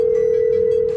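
A steady, unbroken telephone dial tone hums loudly and evenly throughout, with faint background sound beneath it.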